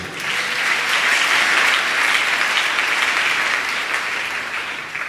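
A church congregation applauds together during a sermon, a sustained wash of clapping that swells quickly and holds steady before easing slightly at the end.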